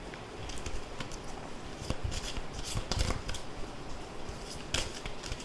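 Playing cards riffled and shuffled by hand for a card reading, a dense papery flutter of rapid snaps and rustles lasting several seconds, close and fairly quiet.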